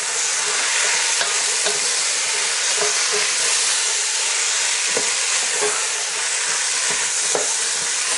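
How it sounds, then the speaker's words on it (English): Drained, rinsed canned butter beans stirred into a hot sizzling pan for a Gujarati-style curry, a continuous bright frying hiss broken by repeated soft scrapes and clacks of the spoon at a steady stirring pace. "Now we're going to add in our butter beans. They've just been simply drained and rinsed from the can, and just stir them in."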